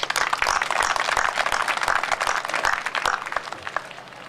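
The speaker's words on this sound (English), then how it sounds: "Let's give yourselves a round of applause." An audience claps together at a community gathering in Manitoba, a dense patter of hands filling the room for a few seconds before tapering off slightly.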